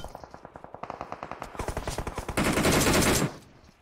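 Rapid automatic gunfire while shooting enemies in a video game, a fast rhythmic string of shots that quickens into a dense sustained burst before cutting off.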